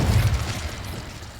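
An Incendio fire spell cast in the video game Hogwarts Legacy gives a deep, rumbling burst that is loudest at the start and then tails off into a steady low roar over a second and a half.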